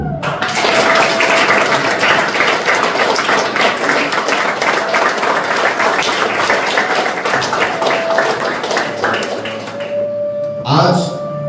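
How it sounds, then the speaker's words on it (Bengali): An audience at an anniversary gathering breaks into sustained, loud applause, dense clapping that runs steadily for about ten seconds before tapering off, with a voice briefly heard at the very end. "আমরা করতালির মাধ্যমে আবার সকলে বরণ করব"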